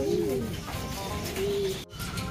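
Hungry racing pigeons coo close by before feeding in San Jose, Nueva Ecija: two soft, drawn-out coos separated by a pause, over light background chatter and rustling.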